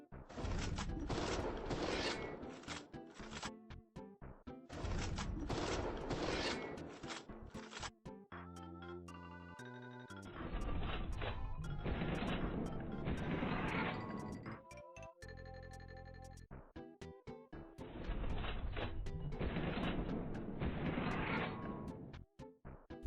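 Gunfire from the GunZ: The Duel video game during fast half-step shooting moves: tight bursts of rapid, crisp shots repeat in clusters, separated by short gaps filled with tonal, mechanical game sounds.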